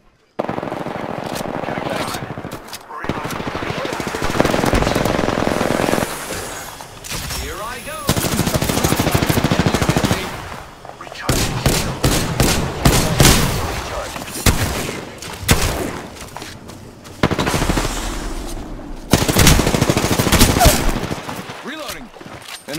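Loud, sustained automatic gunfire in the video game Apex Legends, with long rattling bursts broken by short pauses and some character voices in between.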